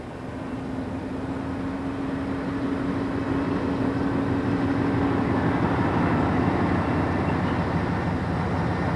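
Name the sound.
Class 58 diesel locomotive hauling coal train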